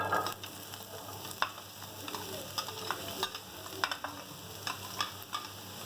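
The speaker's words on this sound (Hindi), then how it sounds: "इसको फ्राई करेंगे।" Chopped carrot, capsicum and onion frying in oil, a continuous close sizzle with sharp spoon clicks and scrapes against the pan at an uneven rhythm, and no talking.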